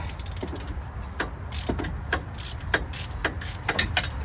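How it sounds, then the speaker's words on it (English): Extended ratchet undoing a rear wheel hub bolt on a Ford Taurus, a steady run of close, crisp ratcheting clicks in an uneven rhythm with metallic ticks throughout. "I have an extended ratchet, and I'm doing the top bolt on this side"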